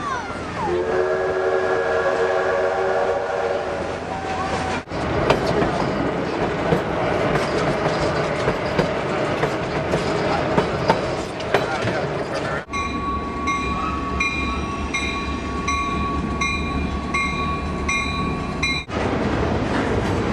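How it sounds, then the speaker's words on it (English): A train runs along a railroad in America: a loud, steady rumble and rattle of passing cars, with a horn blast near the start and a sustained whistle-like tone later, under intermittent talk. "Across America, trains carry people and freight from one place to another."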